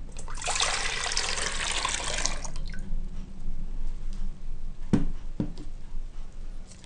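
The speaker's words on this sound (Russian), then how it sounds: "Выливаем молоко." Milk pours steadily into a pot holding a little water for a couple of seconds, followed by quieter trickling and a couple of soft clinks.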